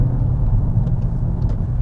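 A Mk8 VW Golf GTI Clubsport's engine rumbles low and steady from inside the car during an overtake, a continuous close drone with no talking.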